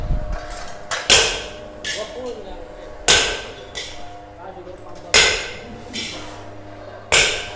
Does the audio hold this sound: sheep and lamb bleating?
no